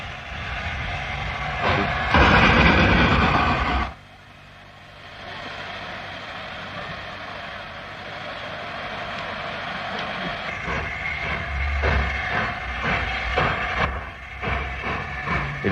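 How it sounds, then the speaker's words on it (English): Steam locomotive Sir Nigel on the Great Central Railway, running late, struggles to restart its train: a loud burst of steam hiss and rumble, a quieter lull, then renewed chuffing, hissing and mechanical clanks building again. "Sir Nigel is 30 minutes late and can't restart its train."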